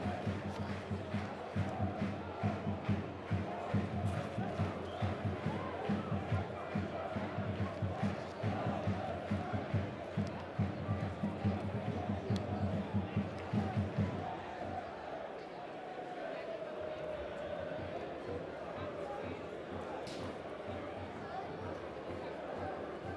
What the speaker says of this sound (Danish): Fantastisk, fantastisk kulisse, der er her med St. Pauli's fan, og der er simpelthen tilskuere på vægterne her over det hele